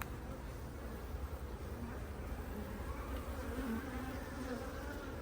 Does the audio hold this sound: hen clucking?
no